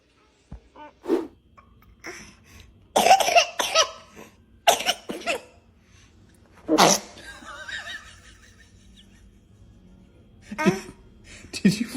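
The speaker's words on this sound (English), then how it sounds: "I think you sneezed." Several sharp bursts of sneezing and coughing, spaced irregularly over a quiet background, each a short, loud, breathy explosion, with a couple of softer sounds between them.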